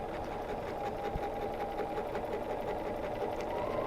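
A BERNINA sewing machine runs steadily through free-motion quilting along a ruler foot, a continuous close hum with a rapid needle tick, alone with no voices.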